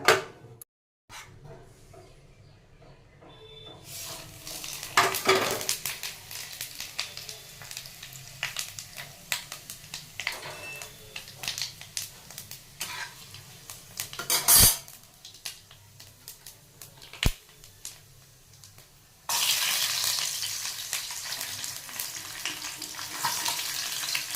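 Bay leaf and dried red chillies fry in hot oil in a pan for a bottle gourd dish, giving a crackling sizzle with scattered sharp pops and clatters of stirring, intermittent and close, growing louder and denser toward the end.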